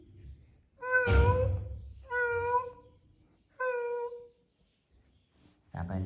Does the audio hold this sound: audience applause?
no